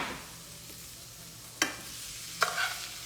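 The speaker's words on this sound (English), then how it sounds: "I'm going to go ahead and toss the vegetables. I'll stir fry." Vegetables being stir fried in a pan, a soft steady sizzle broken by two sharp scraping clatters of the utensil stirring them, close by with no talking.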